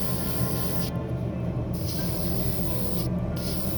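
Spray-painting gloss black paint onto a BMW M4 G82 wide body kit scale model: a steady, close airbrush-like hiss runs throughout with two brief pauses.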